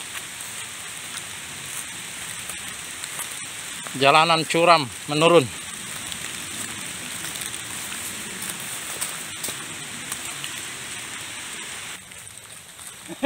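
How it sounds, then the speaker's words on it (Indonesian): Steady rain hisses down in a mountain forest on Gunung Rumbia in Maros, a constant wash of patter that runs under the whole stretch while someone speaks briefly and a short voiced sound breaks through midway. "Hujan, guys."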